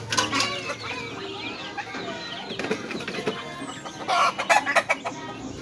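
A rooster and hens cluck busily while being fed: loud, close, overlapping clucks and short calls in irregular bursts, growing more excited toward the end.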